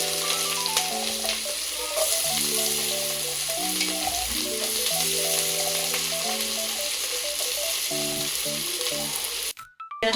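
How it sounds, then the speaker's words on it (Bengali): Onions with green chilies fry in a pan in a steady, hissing sizzle that runs the whole time beneath a melodic background tune. "পেঁয়াজটা এখন লাল হয়ে গেছে, ভাজা হয়ে গেছে"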